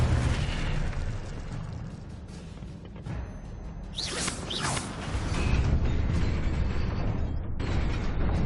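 The Incendio fire spell is cast in Hogwarts Legacy as a roaring whoosh of flame with rising bursts over a rumbling game soundscape, with no speech.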